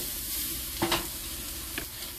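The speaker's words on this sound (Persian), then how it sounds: "یکم دیگه مواد رو با هم تفت میدیم" Meat and eggplant mixture with garlic being sautéed and stirred in a pan, a steady low sizzle with two brief scraping stirs, close and alone.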